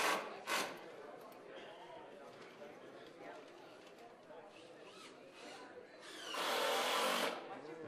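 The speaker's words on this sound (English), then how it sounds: "See, that ratchet sound is what drives it." Ratcheting driver driving a fastener into a top rail during a demonstration: short bursts of buzzy mechanical whirring, the longest near the end, close and moderately loud, mixed with people talking.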